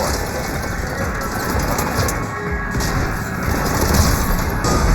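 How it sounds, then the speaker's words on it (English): Gunfire and explosions on the Citadel in Mass Effect 3, a dense, continuous din of booms and shots that swells slightly toward the end, with no speech. "Just following the gunfire."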